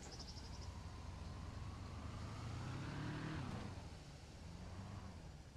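A car drives in the survival video game Miscreated: a steady, loud engine and road drone whose pitch climbs and then drops as it changes speed, with no talking.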